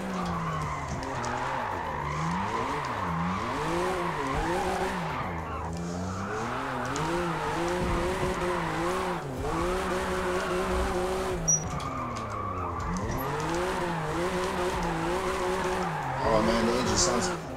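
A BMW M2 with a 656 hp stock engine drifting in Forza Motorsport, its engine revving up and down in sweeping waves while the tires squeal and skid steadily, with a person talking over the car.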